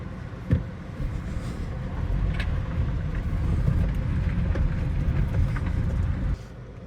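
Repaired, previously crash-damaged Audi on its first drive, heard from inside as a steady low engine and road rumble that grows slightly louder midway, then drops off near the end.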